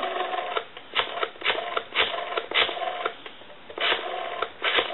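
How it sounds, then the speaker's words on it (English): Rotary dial of a Western Electric 202 telephone under repair, stiff with tension, clicking repeatedly as it turns and returns in a rapid, rhythmic series of close ticks with short pauses, no voices. "there's quite a bit of tension on this dial, but it will free up"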